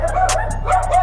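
Dogs barking in short repeated yips and woofs over a steady background hum, heard outdoors during work on a 1990 Honda CRX Si front end.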